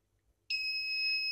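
After a brief quiet moment, a multimeter's continuity tester gives a steady high-pitched electronic beep that starts abruptly and holds continuously, close and clear, across a shorted capacitor in a vape mod.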